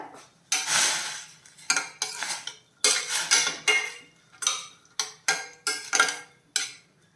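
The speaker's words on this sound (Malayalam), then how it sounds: "ഇപ്പം എല്ലാം കൂടെ ഒന്ന് മിക്സ് ചെയ്യാം" Chopped chow chow with water and salt is mixed in a pot, making a run of close, loud spoon scrapes and clattering strokes against the metal, in bursts with short pauses between.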